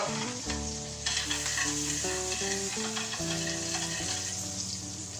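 Shallot and small lardons sautéing gently in a pan before a rack of lamb is cooked, giving a soft, steady sizzle that sits beneath prominent background music.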